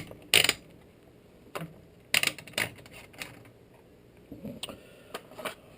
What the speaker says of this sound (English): Taking off the barrel.